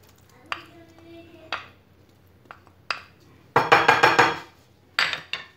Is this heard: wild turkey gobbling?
no